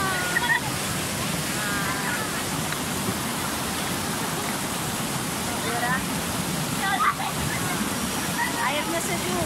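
The Bekok river rushing over a rocky bed at a forest recreation spot, a loud, steady broadband wash of flowing water that stays constant throughout, with faint voices of bathers mixed in.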